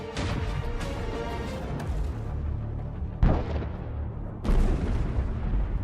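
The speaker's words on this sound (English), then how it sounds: "There is a very strong explosion" A Russian armored personnel carrier runs over mines. Several loud, sharp blasts erupt, each a broadband boom that decays into rumbling debris noise, spaced a second or more apart.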